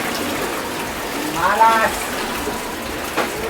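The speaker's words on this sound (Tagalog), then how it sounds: "Grabe yung baha guys." Floodwater rushes through a flooded street in Bacoor, Cavite, a steady broad hiss and gush under a person speaking briefly.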